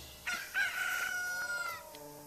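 Chickens in the Zelda Majora's Mask game, a short synthesized rooster crow followed by a few clucks, clear and alone over quiet background.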